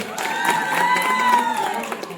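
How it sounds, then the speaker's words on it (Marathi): Audience applause and cheering at a lavani folk dance show held at Kalbadevi on Mahashivratri, a steady dense wash of clapping and crowd noise with voices rising through it for the whole stretch. "त्याच्यामुळे जोरदार टाळ्या तुमच्या सगळ्यांसाठी झाल्या पाहिजे"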